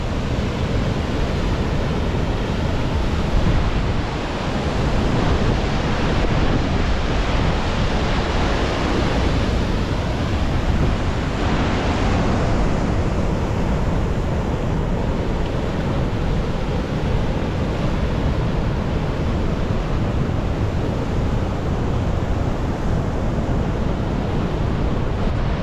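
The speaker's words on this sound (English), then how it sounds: "It's crazy turbulent water." Turbulent whitewater rushes steadily beneath the Rancheria Falls footbridge at Hetch Hetchy in Yosemite, a loud, unbroken roar that fills the whole span without a pause.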